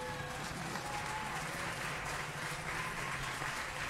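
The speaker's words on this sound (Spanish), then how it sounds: "Démosle un aplauso." A crowd at a political campaign event applauds steadily for a few seconds, a continuous wash of clapping heard from some distance with a faint voice over it.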